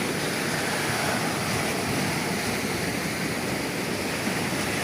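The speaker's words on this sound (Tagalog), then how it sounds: "Mao na nga kusog kaayo ang bawod jud sa lawod." Strong waves on the open sea make a loud, continuous rushing roar that stays dense and even throughout, with no voices.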